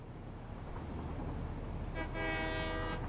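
A train in a factory-building video game sounds a horn-like toot partway through, a sustained tonal blast over a steady low rumble of the running train.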